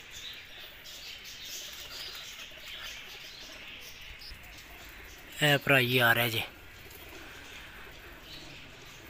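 A pigeon bursts into flight with a brief, loud flurry of wing flaps midway, amid soft background cooing and a voice calling out before it.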